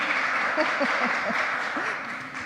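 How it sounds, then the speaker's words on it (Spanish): A dense wash of clapping from attendees at a session of Chile's Constitutional Convention fills the clip at an even level, with faint voices mixed in underneath. "le damos un aplauso al secretario por la lectura de las tres normas."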